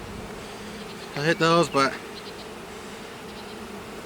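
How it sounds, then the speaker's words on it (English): Bees drone faintly and steadily inside a hive, a soft continuous buzz that runs beneath a brief spoken remark. "there's a lot of bees in there."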